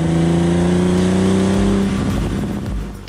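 A Porsche 944 Rothmans Turbo Cup race car engine roars loud and close with a steady high-rev drone, then eases off as the note drops near the end.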